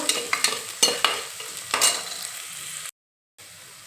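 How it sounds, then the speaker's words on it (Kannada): Thick-chopped onion frying in hot oil for a vegetable tempering, giving a steady crackling sizzle with sharp stirring scrapes and clatters near the start, then a brief drop to silence before a quieter sizzle resumes. "ಈಗ ಅದಕ್ಕೆ ಒಂದು ದಪ್ಪದ ಈರುಳ್ಳಿ ಹೆಚ್ಚಿಟ್ಕೊಂಡಿದ್ದೀನಿ ಉಕ್ಕೋಬೇಕು"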